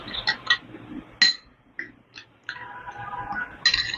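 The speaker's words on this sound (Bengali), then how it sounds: "এবার এটাকে জল দিয়ে একটা গুলে পাতলা ঘোল মতো আমি রেডি করে দিচ্ছি।" A spoon stirring spiced flour batter with water in a bowl for a snack: close, intermittent clinks and scrapes against the bowl, with short bursts and quiet gaps between them.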